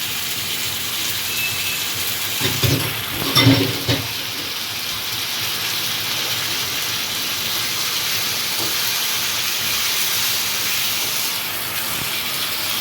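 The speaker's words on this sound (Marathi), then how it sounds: "आता मम्मीने हळद टाकली थोडीशी आणि आता कोळंबी टाकली" Prawns with a little turmeric sizzling in a hot pan, a steady loud hiss of frying that runs the whole time, broken briefly by a few stirring clatters near the start.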